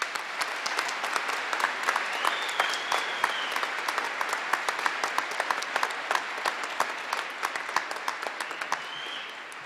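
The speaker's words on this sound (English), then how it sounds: "Let's give Nick one more round of applause for his outstanding" Dense, steady applause from a large commencement ceremony audience, many hands clapping at once in a continuous roar that holds at an even level for nearly ten seconds.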